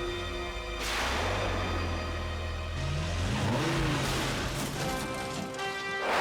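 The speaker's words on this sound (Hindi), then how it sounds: "अब आप गाड़ी स्टार्ट कीजिए" A car engine starts and revs, its low hum rising through several pitch sweeps of revving with a burst of broadband noise in the middle and a harsh, clattering finish.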